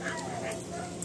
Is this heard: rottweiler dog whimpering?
yes